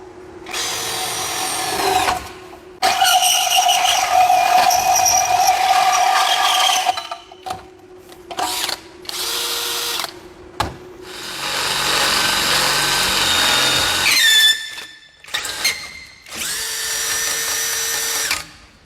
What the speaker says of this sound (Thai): จาะเหล็กหนา 10 มิลนะครับ กับดอกใหญ่เลยดอกเบอร์ 10